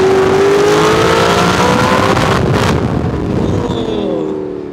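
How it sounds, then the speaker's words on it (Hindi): An Audi R8 with a V8 engine roars loudly past at close range, its rising engine note holding strong before fading away as it moves off, with no talking. "अब आप दोबारा से सुनो एक बार ना इसका फ्लाई बाय"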